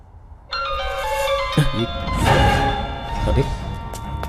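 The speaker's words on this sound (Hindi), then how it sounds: "अरे भाई का फोन आ रहा है यार" A phone rings in a Hindi-dubbed South Indian action film, a bright repeating electronic melody starting abruptly and playing on while voices and background sound from the scene continue around it.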